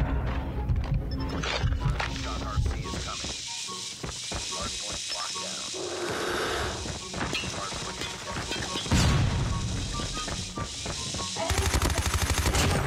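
Rapid bursts of PDW-57 submachine gun fire in the mobile shooter Call of Duty Mobile, loud and repeated across the match alongside impacts and game effects, with a voice talking over the action.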